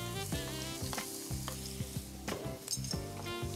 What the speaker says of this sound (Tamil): இஞ்சி பூண்டு விழுது, பச்சை மிளகாய், அப்புறம் வெங்காயம் இதை போட்டு வதக்க போகிறோம்